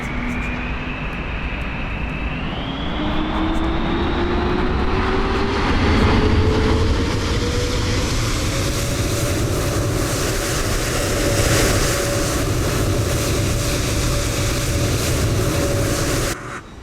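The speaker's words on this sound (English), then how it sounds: "Some loud engine noise." Loud, sustained whine and roar of CFM engines on a Fenix A321 in a flight simulator, a tone rising in pitch as the engines spool up and then holding steady before cutting off abruptly.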